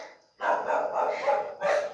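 Dogs bark in a quick run of four or five close, loud barks with brief gaps, after a moment of near silence.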